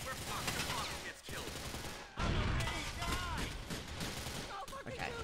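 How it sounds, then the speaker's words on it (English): Rapid bursts of gunfire from Grand Theft Auto IV: The Ballad of Gay Tony, dense and loud, with a heavy boom near the middle and a voice talking over the shooting. "I'm getting shot at"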